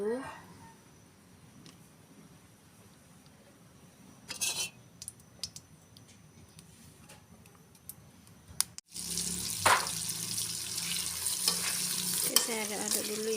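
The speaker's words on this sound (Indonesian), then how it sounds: "Oke, saya aduk-aduk dulu ya teman-teman." Papaya and tempeh stir-fry stirred in a pan over a lit stove, a steady sizzle with scraping spatula strokes and clinks that grow louder midway, with a tap running briefly.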